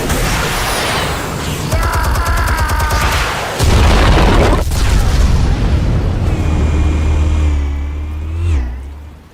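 Explosive charges detonating in Batman: The Telltale Series, a loud, deep boom that rolls on with mechanical rumble and rising whines, with no voices over it.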